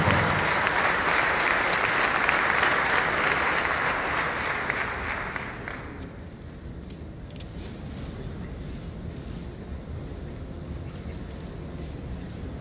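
An audience at a national industrialists' convention applauds loudly for several seconds, then the clapping thins and fades into a quieter room murmur.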